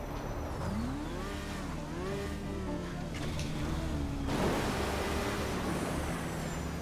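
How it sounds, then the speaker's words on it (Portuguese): Motorcycle ridden in Grand Theft Auto V, its engine droning steadily with rising and falling pitch sweeps as it accelerates, loud and continuous with a rougher burst near the end. "Eu estou andando por aí de moto"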